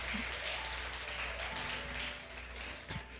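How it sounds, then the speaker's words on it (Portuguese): Congregation clapping together in a church service, a steady wash of applause that fills the room with a low hum beneath it. "Dá uma salva de palmas a Ele."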